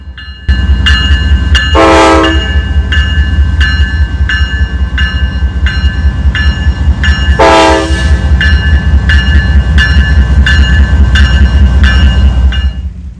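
A large unit grain train passes close and loud, with steady rolling rumble and rhythmic wheel clicks, while its horn sounds twice in long, loud blasts.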